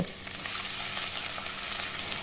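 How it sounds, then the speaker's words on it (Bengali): Ginger, chilli and onion fry on high flame in a pan, a steady, close, loud sizzle with light crackle throughout, no voices. "এবারে হাই ফ্লেমে মিনিট খানেক সময় ধরে একটু এগুলোকে ভাজা ভাজা করে নেব।"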